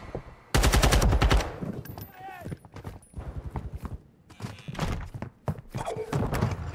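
Rapid automatic gunfire bursts loudly in the video game Call of Duty, followed by scattered shots and impacts mixed with game sounds and a voice speaking over the action.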